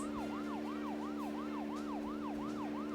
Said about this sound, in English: let me turn off the siren.